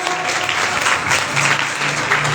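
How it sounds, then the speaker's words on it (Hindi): Loud, dense applause fills a church gathering for a pastor, steady clapping from a congregation throughout with no pause. "जोरदार तालियां,"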